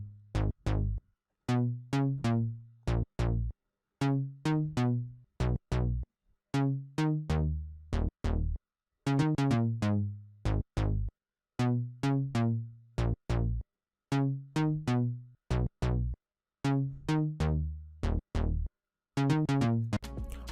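Harsh, distorted synth bass from a Juno 60 style bass preset, played as punchy repeated notes in a choppy rhythmic pattern with short gaps, loud and alone.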